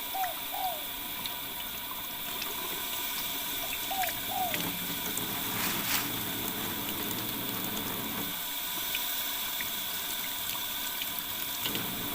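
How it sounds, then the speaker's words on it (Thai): Tap water runs steadily over salad vegetables being rinsed, a constant close splashing flow with faint mechanical ticks, and a few short bird calls near the start. "นี่เราจะล้างแบบให้น้ำผ่านนะคะพี่น้อง"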